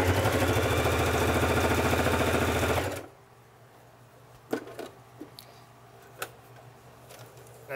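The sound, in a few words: Singer Heavy Duty sewing machine stitching three layers of leather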